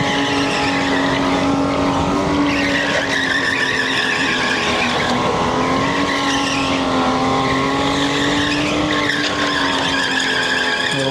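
Supercharged go-karts race at the indoor Edison, New Jersey track, engines droning loud and close as tires squeal and skid continuously throughout.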